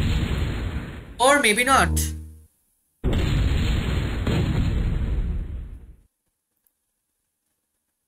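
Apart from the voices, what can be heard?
air gun attack in MechQuest video game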